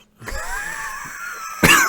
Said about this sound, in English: I just all of a sudden got a little bit of a cough there.